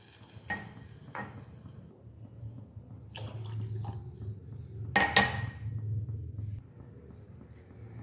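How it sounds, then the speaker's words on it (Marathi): Water is poured onto rice in a cooking pot, soft splashes and a gurgling stream with a few clinks of the vessel, fairly quiet and close against a low hum. "आता जेवढे तांदूळ आहेत ना त्याच्यात दुप्पट पाणी घालून घ्यायचं"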